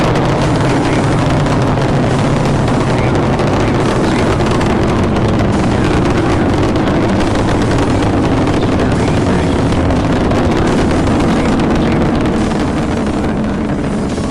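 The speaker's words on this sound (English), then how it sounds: "booster ignition, and liftoff of the Space Shuttle" Space Shuttle rocket boosters igniting at liftoff, a loud continuous broadband roar that stays steady and overwhelming for the entire stretch, with no speech over it.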